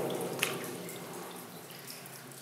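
Faint, quiet trickle of water with a single soft drip near the start, in a hushed, enclosed technical tunnel of the Protvino collider, with wet clay underfoot.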